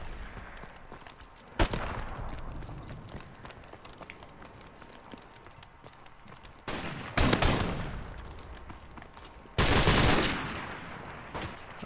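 Gunfire in a video game, three loud bursts at about 1.6, 7 and 10 seconds that each die away over steady background noise, with no talk.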